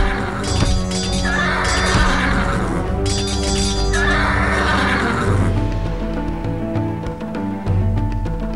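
Horses of mounted warriors neighing in Empire Earth, two loud whinnies a couple of seconds apart over a bed of game music and battle ambience.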